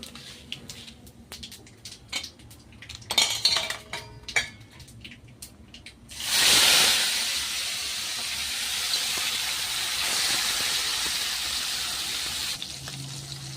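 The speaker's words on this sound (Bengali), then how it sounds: "এখানে আমি আপনার কালো জিরে দিয়ে দিচ্ছি ফোড়নে।" Black cumin seeds hit hot fish oil for a fenugreek-greens stir-fry, bursting into a loud, steady hissing sizzle after a few seconds of light kitchen clatter, then holding a bright, even fry to the end.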